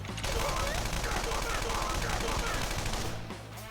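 The player's gun fires in Persona 5 Royal, a loud, rapid, continuous burst of automatic gunshots lasting a few seconds before tapering off.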